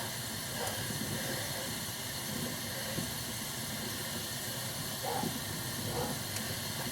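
Steady steam hisses as a dye bath of Wiltons sky blue food colouring heats for hand dyeing, a continuous close wash of noise with faint clinks, no talking.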